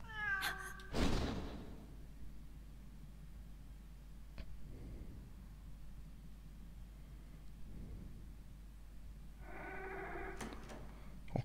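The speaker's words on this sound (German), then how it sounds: "Vielleicht will die Katze uns ins Verderben jagen." Cat meowing in the video game Calling, a sharp meow near the start, then a quiet stretch with faint low rumbles, ending in another drawn-out cry.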